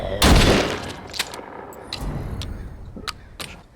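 A single loud, close shotgun blast booms in The Walking Dead: Saints & Sinners, followed by a fading tail with a few light clicks and ticks.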